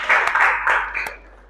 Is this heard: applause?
yes